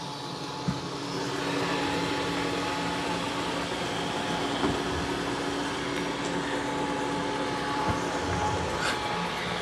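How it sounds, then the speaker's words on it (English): A robot vacuum mop runs with a steady whirring motor hum and a faint brushing noise throughout, occasional soft clicks and bumps breaking the drone. "This is an excellent robot vacuum cleaner."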